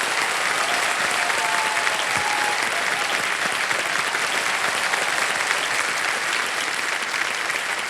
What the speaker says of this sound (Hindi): भाई जोरदार तालियां बज जाए इनके लिए।